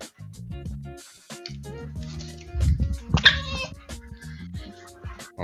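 A dog whimpers and cries in high, wavering whines that rise into a louder, strained yelp and then trail off into softer whimpers, close by and indoors, with no talking.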